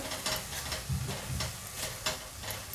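Thick amla (Indian gooseberry) candy mixture is stirred in a pan over a low gas flame, with soft, irregular scraping strokes and a faint sizzle, quiet and close, with no talk.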